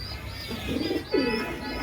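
Teddy-breed pigeons coo nearby in low, throaty, rolling calls, two or three phrases in a row, with a soft chirp or two in the background.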